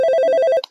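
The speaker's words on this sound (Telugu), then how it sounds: "ఏంటి అక్క నాకు ఫోన్ చేస్తుంది?" A phone ringing with an incoming call, a brief rapidly pulsing electronic ringtone that cuts off abruptly after under a second.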